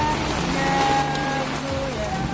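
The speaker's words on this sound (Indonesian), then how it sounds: "hujan sudah mulai reda" Steady rain falls hard and close, a dense even patter on surfaces with no pause, while faint tones murmur in the background.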